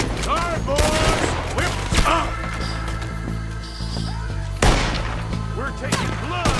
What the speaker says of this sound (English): I'll riddle you with bullets!